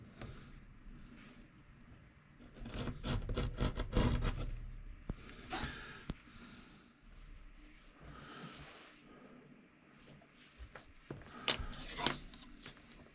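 Wood is sanded and shaped by hand along the rabbet line of a Model Shipways US Brig Syren model ship hull, in quiet bursts of rasping strokes with pauses between them.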